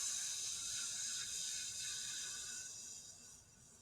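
A voice imitates a steady, whispering lawn sprinkler with a continuous breathy hiss that stays even and close, then slowly fades toward the end.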